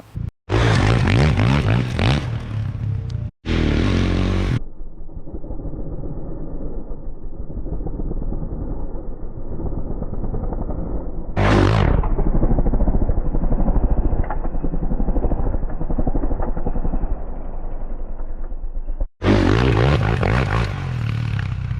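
A dirt bike rides through whoops, its engine roaring loud and close with surging revs, rattling clatter and scraping as it pounds over the bumps, with brief cutouts between runs.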